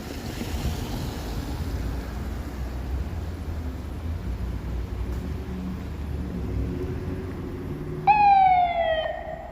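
Steady traffic rumble on a downtown Toronto street during light snow at night, then a police siren gives a brief, loud yelp near the end.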